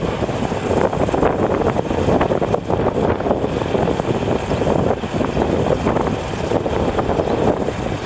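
Strong wind buffets the microphone outdoors near Non Narai in Surin province, a steady loud rumbling roar that runs unbroken and alone with no voices.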